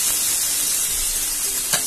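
Chopped onions frying in hot oil in a home kitchen pan, a dense continuous hiss of sizzling with a small stirring clatter near the end, close and steady, no talk.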